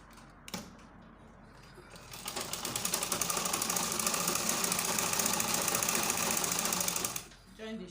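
Sewing machine stitching the shoulder seam of a baby girl's gathered gown, a fast, steady mechanical chatter that starts after a short tap and runs for about five seconds before stopping.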